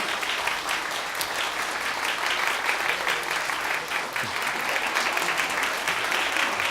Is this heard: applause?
yes